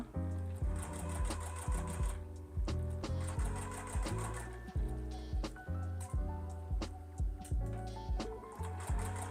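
A sewing machine stitches a quilt block with a quarter-inch seam at a short stitch length, running in quick rhythmic bursts of thumping needle strokes with brief pauses between, close and fairly quiet.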